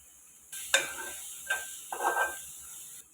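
Potato curry with grated coconut, garam masala and chili powder is stirred in a pan, three short scraping, sizzling strokes with light metallic clinks, fairly faint over a quiet background hiss; no talking.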